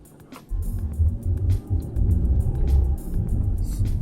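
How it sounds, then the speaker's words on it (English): Mercedes E300de 4matic diesel hybrid estate driving through the city, a steady low road rumble and engine drone inside the cabin with faint ticks and no talking. "Let's go for a ride and check out how is the car driving."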